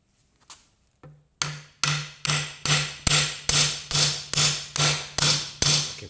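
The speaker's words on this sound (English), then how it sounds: "so I'm going to try it with that drift" Steel hammer repeatedly driving a drift to knock rear hub bearings out of a Suzuki LT50 quad: two soft taps, then about a dozen loud, evenly spaced metallic blows close by.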